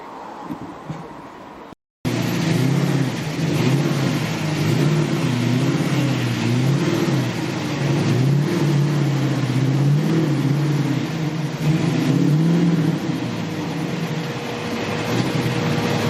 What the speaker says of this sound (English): This car that just pulled in is beautiful. It's a 67 Camaro, but as you can see, that is not the stock 67 engine.